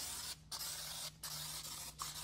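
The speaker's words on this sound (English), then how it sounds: "just to help flush any residue, got my spray bottle here" Water from a handheld spray bottle hits a car wheel in several short, close, hissing squirts with brief gaps between them, diluting the cleaner and rinsing away residue.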